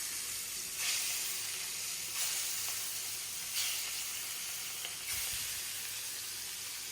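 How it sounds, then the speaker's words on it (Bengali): Katla fish pieces fry in hot oil, giving a steady, close sizzle with a few brief surges of louder hissing spattering, heard alone without voices. "তো আমি মাছগুলো সুন্দর করে আগে ভেজে নিব।"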